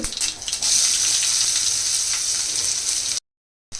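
Cumin seeds and finely chopped onions fry in hot ghee, a steady close sizzle with a watery hiss that holds level for about three seconds before cutting out, then briefly returning.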